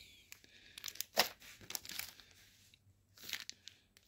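Handmade plastic coin blister packs handled up close, giving sharp crinkling and crackling bursts of thin plastic with short pauses between.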